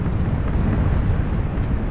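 Gunfire in PlayerUnknown's Battlegrounds, with dense overlapping bursts and booms filling the whole stretch at a steady loudness and no gaps between shots.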